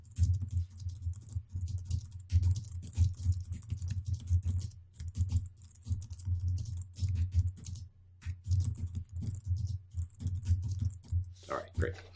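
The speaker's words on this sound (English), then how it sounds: "let me just type in this little message" Typing a message on a computer keyboard during a C# programming session, with a steady run of soft clicking keystrokes over a low background hum, fairly close and continuous.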